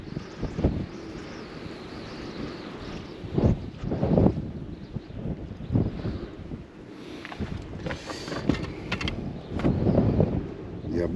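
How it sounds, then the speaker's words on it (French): Gusty wind buffets an outdoor microphone beside a canal during fishing, with rumbling bursts coming and going throughout and brief speech mixed in. "Il y a beaucoup de vent"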